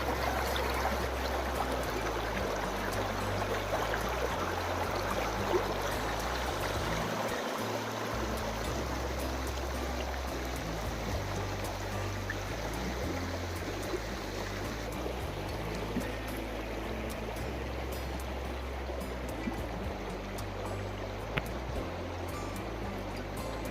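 Steady rushing of a flowing stream in an Indian village, filling the whole stretch, a constant broadband burble of water over stones, close and fairly loud with no voices.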